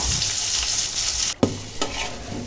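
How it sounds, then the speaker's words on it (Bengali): Ground dried mola fish mash ingredients sizzle hard in hot mustard oil. A steady, bright frying hiss is broken by a couple of brief stirring knocks. "বেটে রাখা উপকরণগুলো সরিষা তেলে ভেজে নেব"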